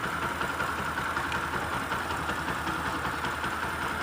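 A Bajaj Discover 100 motorcycle with a faulty silencer runs its engine in a steady, close, rough idle with a dense, knocking mechanical rumble.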